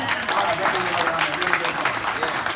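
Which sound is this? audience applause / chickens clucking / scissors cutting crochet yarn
audience applause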